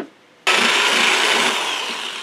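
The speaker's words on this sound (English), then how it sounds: "I'm going to drill the weep hole that this needs for drainage" A power drill bores a weep hole through a plastic 5-gallon bucket, starting abruptly after a quiet moment and then grinding steadily, loud and close, with no talk.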